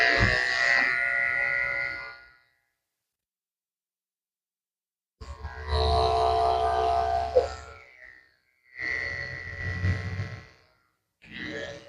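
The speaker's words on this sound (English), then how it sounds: "I'm going to go ahead and shave the base of his tail with a tin blade just to set the pattern for his pom-pom." Electric clippers fitted with a fine blade buzz steadily while shaving the base of a toy poodle's tail during grooming. The hum comes close and loud in several bursts of a few seconds each, separated by silent pauses, with no talking.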